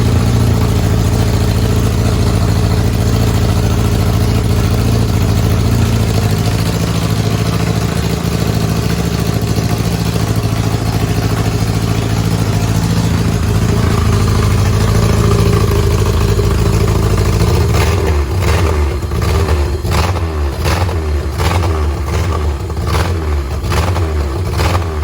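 A Honda-engined Smart car runs loud and close, holding a rough steady drone for about fifteen seconds before settling into a choppy, pulsing idle that continues to the end, with no voices.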